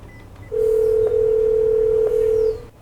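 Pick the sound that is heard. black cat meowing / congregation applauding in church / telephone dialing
telephone dialing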